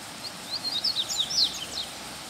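A female coleiro preto seedeater (Sporophila) sings a quick series of thin, high chirps over a steady outdoor hiss. The song is moderately faint and lasts about a second and a half.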